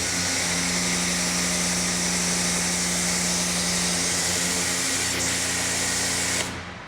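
A foam cannon sprays soap foam in a steady, loud hissing rush with a low hum beneath, running evenly for about six seconds before cutting off abruptly.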